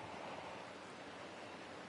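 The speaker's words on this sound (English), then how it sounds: "This is the sound of rain." Rain in the video game Honkai Star Rail falls as a soft, even hiss, a faint and continuous wash of noise with no voices over it.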